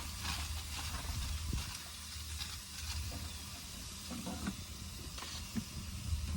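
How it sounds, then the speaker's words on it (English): Chopped bacon sizzles and hisses in a cast iron skillet on an outdoor grill, a continuous crackling fry with occasional pops and faint stirring. "You can hear that sizzle from the chopped up bacon."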